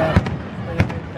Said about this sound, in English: Oh, Art, I'm trying to get the fireworks.